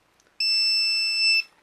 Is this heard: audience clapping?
no